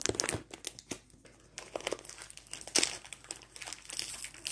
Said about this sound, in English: Okay, opening this bag.